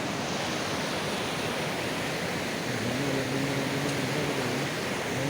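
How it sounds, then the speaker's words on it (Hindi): A waterfall flowing down from Neelkanth mountain near Badrinath, a steady, loud roar of rushing water with a faint low hum entering partway through. "बैकुंठ लोक में नीलकंठ पर्वत से आता हुआ झरना"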